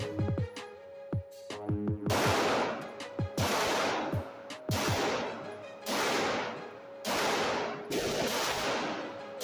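Rifle gunshots during load development, about six loud, sharp reports spaced a second or so apart, each trailing a brief echo, with clicking handling noises between the first shots.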